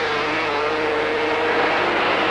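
500cc Grand Prix racing motorcycles, Honda and Yamaha, at the 1983 German Grand Prix scream past on a fast stretch as a loud, steady, high-pitched engine whine with no break.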